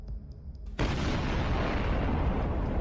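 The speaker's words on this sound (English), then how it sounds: "another Ukrainian FPV drone locked onto the BMP's position and launched a direct strike." A massive explosion from an FPV drone strike on a BMP infantry fighting vehicle bursts in suddenly after a brief lull, then sustains as a loud, roaring, broadband blast rumble through the rest of the clip.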